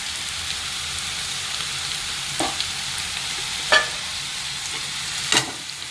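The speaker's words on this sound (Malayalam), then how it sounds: "നന്നായി കളക്കണം നമുക്ക് കുറച്ച് മീൻ ഫ്രൈ ആയി വരുന്നുണ്ട്" Fish sizzles steadily in a pan with tomato, ginger and garlic as it is stirred, a constant bright frying hiss broken by a few sharp clicks from the utensil; no one speaks.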